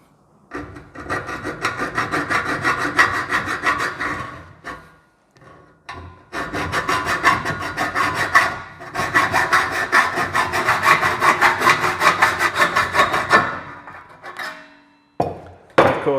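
A hacksaw cuts through metal trunking in quick back-and-forth strokes, loud and close. Two long bursts of rasping sawing are split by a short pause, with a few brief scrapes at the end.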